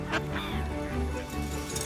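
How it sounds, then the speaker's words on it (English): Ducks quack in a small cluster of nasal calls, close and fairly loud, over a steady background hum. "that's enough of the ducks"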